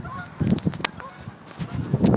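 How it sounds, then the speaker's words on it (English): A few geese honk nearby in short, uneven calls, with a couple of louder honks standing out against quiet outdoor background. "Oh, there's some geese here."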